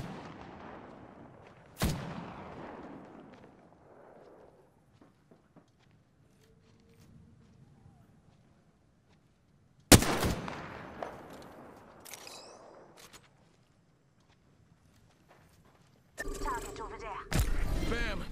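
Loud single gunshots in Apex Legends, sharp blasts with long echoing tails and several seconds of quiet between them, followed by a tight cluster of shots at the end, with voices talking between them.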